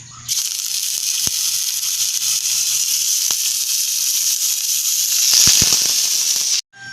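Beef sizzles loudly and steadily in a hot pan, a bright continuous fry with a few sharp pops and crackles near the end as garlic goes in, then the sizzle cuts off abruptly.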